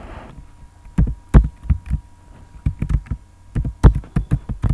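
Typing on a computer keyboard, heard close up as uneven bursts of dull, thumping key presses with short pauses between, over a faint electrical hum and no speech.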